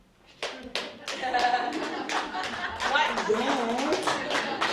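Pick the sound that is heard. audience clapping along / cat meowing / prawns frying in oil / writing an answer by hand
audience clapping along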